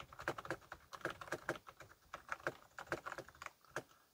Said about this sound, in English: let me keep typing, just so you can kind of hear what it sounds like